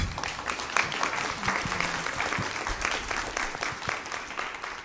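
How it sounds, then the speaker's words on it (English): An audience claps steadily after a talk on Black settlements, a dense, continuous applause from a seated crowd filling the room at moderate loudness. "Let's give them a round of applause."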